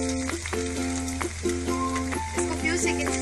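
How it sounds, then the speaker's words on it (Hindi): Garlic sizzles in hot oil in a pan, a steady, close crackle of frying that runs continuously throughout, with a melodic tonal layer sounding alongside. "इसको फ्यू सेकंड्स के लिए सौटे कर लेंगे"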